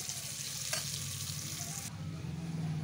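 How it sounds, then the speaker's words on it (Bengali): Potatoes frying in a pan in a home kitchen give a steady, soft, crackling sizzle at close range, with a faint clink partway through and no one speaking. "আলুটা ওদিকে ফ্রাই হচ্ছে"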